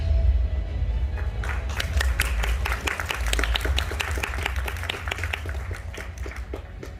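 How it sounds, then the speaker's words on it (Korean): A forum audience in a hall applauds to welcome a speaker, a dense, steady burst of many hands clapping that starts lightly and builds, then tapers off toward the end. "여러분의 큰 박수로 김재민 대표님 모셔보겠습니다"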